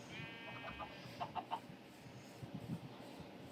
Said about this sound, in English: I just spawned a bunch of baby chickens